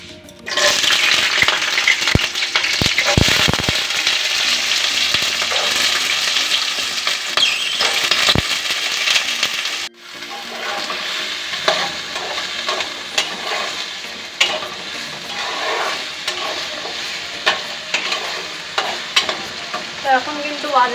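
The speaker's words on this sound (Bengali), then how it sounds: "তো এগুলো এখন তেলে একটু ভেজে নেব।" Diced potatoes, carrots, beans and peas fry in oil, giving a loud continuous sizzle at first, then a busier patch of scraping and clattering stirring over a softer crackle, all close by and without speech.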